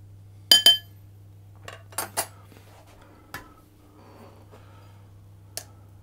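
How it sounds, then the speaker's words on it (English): Dry ingredients, flour among them, are stirred in a bowl for banana bread, with a handful of sharp, isolated clinks of a utensil against the bowl separated by quiet pauses over a low steady hum. "I'll just give that a bit of a stir around"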